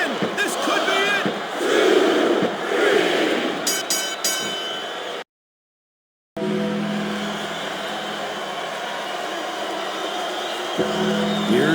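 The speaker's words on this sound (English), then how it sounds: "the crowd has come alive tonight" A video game wrestling arena crowd from WWE SmackDown vs RAW 2007, during an Undertaker versus Umaga match, roars loudly and continuously, broken by a brief silent gap before the cheering resumes.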